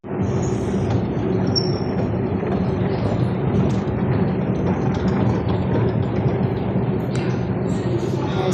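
A metro train rolls into an underground station with a steady, loud low rumble of wheels on rails and faint high squeals, continuous throughout with no voices.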